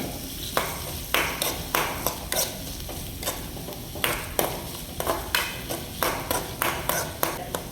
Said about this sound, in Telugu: వీటిని ఒక ఐదు నిమిషాల పాటు మీడియం ఫ్లేమ్లో వేగనివ్వాలి